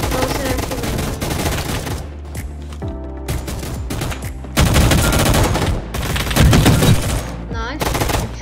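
Rapid automatic gunfire rattles in dense, loud bursts from Roblox Gunfight Arena, broken by short pauses and resuming repeatedly, with game sounds mixed in.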